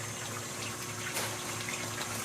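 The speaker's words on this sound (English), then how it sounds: "pumps water out of that sump tank. Back into there. Back up here." A pump moves water out of a sump tank in a greenhouse aquaponics system, giving a steady, faint rushing and trickling of water with a low hum and no speech.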